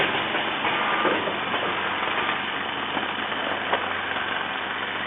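Steady mechanical running of an ATM-320C automatic coffee powder packing machine, a continuous droning hum with faint intermittent clicks, heard alone at moderate level.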